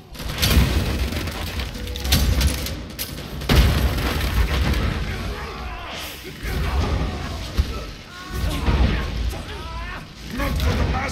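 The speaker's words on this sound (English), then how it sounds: "A purifying grenade!" A purifying grenade detonates in Warhammer 40,000: Darktide, giving heavy booming blasts and crashing impacts amid dense combat noise, with character voices speaking over it.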